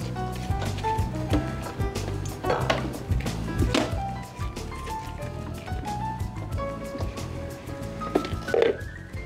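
Metal spoon lifted from among kitchen utensils while mixing a passion fruit cake batter with flour and baking powder, giving scattered clinks and clatters over ongoing kitchen handling noise.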